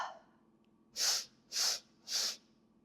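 Breathwork exhale pushed out through the mouth in three short, forceful, evenly spaced breath bursts, close and clear in a quiet room.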